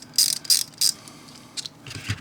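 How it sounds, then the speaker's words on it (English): A quarter-inch ratchet socket wrench gives three quick, crisp bursts of clicking close up, followed by a few softer, scattered ratchet clicks and light handling clatter. "Let's try with the socket wrench here."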